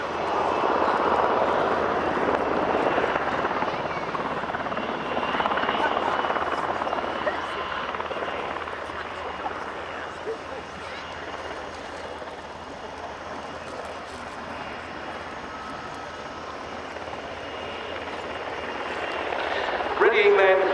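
Czech Air Force W-3 Sokół helicopters of the 243rd Helicopter Squadron in a flying display at an airshow, a steady loud rotor and engine drone that swells and fades as they pass, with a commentator talking over it.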